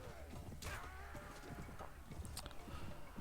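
A horse gallops in the video game Mount and Blade: Warband, its rapid hoofbeats faint beneath a dense wash of battlefield noise.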